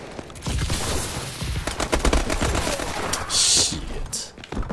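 Rapid automatic gunfire in Call of Duty: Advanced Warfare, on the Horizon map in a Hardcore Kill Confirmed match, crackles in dense, loud bursts of closely spaced shots, with a sharper hissing burst near the end.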